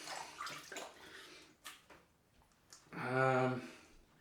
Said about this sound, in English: wash it off my hands